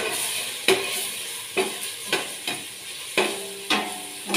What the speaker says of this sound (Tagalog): pinukulo na yung ating mantika. Ilagay po natin itong ating sibuyas at bawang.